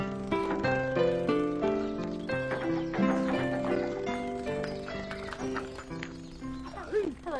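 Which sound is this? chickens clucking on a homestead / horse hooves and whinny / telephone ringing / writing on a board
horse hooves and whinny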